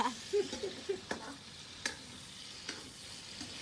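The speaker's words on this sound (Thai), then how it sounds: "นี่ครับเราวันนี้มาผัดผักใส่หมูกันเนาะ" Vegetables stir-fried with pork belly in a pan, heard as a soft steady sizzle with occasional scraping and clinking of the utensil, fairly quiet and close.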